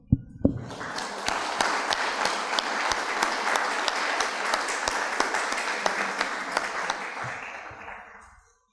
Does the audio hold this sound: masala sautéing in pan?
no